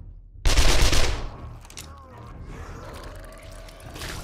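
A sudden close burst of rapid gunfire in the 7 Days to Die video game, aimed at circling vultures, giving about half a second of loud shots followed by a quieter ambient tail.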